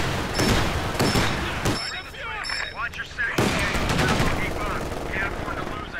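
Rapid machine gun bursts rattle through a Company of Heroes 4v4 battle, dense gunfire in the first seconds and again later, with voices and other battle noise in between.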